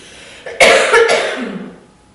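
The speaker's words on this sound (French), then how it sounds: "je vais tousser" A single harsh cough, close and loud, trailing off into a brief breathy exhale.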